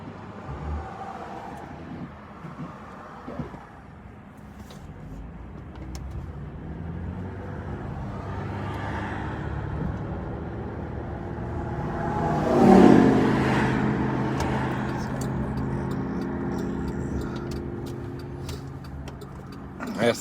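Road traffic passes at night, a steady low wash of cars with one vehicle sweeping close and loud midway before fading, while someone talks over it.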